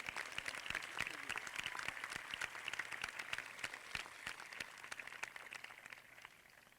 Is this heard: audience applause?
yes